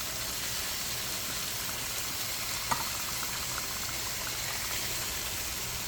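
A pot of beef mechado simmers with tomato sauce, giving a faint, steady bubbling hiss throughout, broken once by a small clink near the middle.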